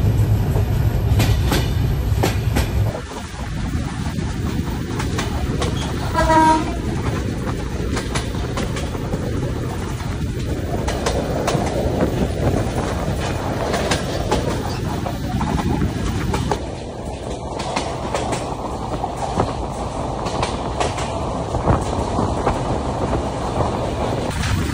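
A passenger train runs from Jessore toward Dhaka, its steady rumble and clickety-clack of wheels heard from inside the carriage. Wind buffets the microphone and the rolling noise shifts in tone partway through, with no talking.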